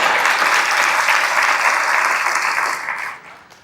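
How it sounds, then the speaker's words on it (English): Applause from a live audience at a marketing fireside chat, a dense, steady burst of clapping that holds strong and then tapers off near the end. "Let's clap it up for Luke."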